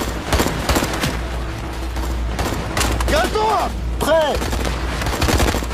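Gunfire in a film shootout: rapid shots and bursts rattle continuously at close range, mixed with loud shouting voices and whistling ricochets.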